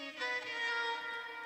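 A sustained sung vocal note, pitch-shifted up an octave by a vocal plugin, holds steady for a moment with a bright, thin, processed tone and no talking.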